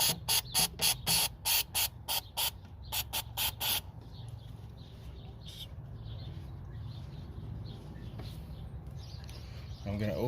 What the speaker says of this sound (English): Now I'm going to spray some in there.